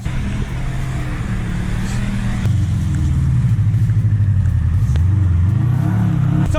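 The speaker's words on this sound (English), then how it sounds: "Who needs a massive recovery truck when you've got a brave Subaru and a tow rope?" A Subaru car pulls another vehicle with a tow rope on an icy road, its engine droning loud and close with a low, steady rumble that rises slightly as it strains under load.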